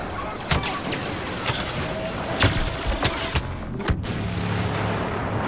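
Blaster fire in Star Wars Battlefront, with a player facing a death trooper: a steady battle din pierced by several sharp, loud shot bursts at irregular intervals, plus distant booms; no talking.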